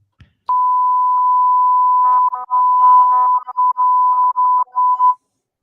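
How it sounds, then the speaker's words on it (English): A loud, steady electronic censor beep at one pitch holds for about five seconds. Muffled speech breaks through it in choppy bursts, cutting in and out over the tone. "I even had to put a censor beep in"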